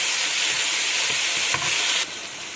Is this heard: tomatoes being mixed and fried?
yes